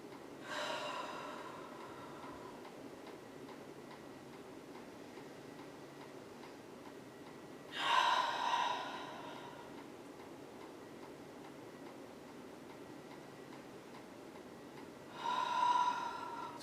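Three deep, audible breaths spaced several seconds apart during a yoga stretch, each a close, breathy exhale standing out from a quiet room.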